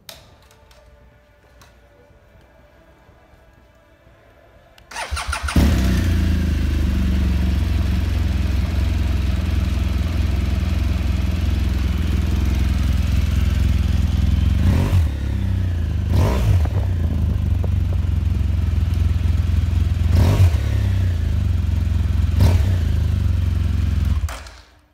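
A 2013 BMW R1200GS motorcycle is quiet for about five seconds, then its engine fires and settles into a loud, steady idle, with several sharp revs before it cuts off at the end.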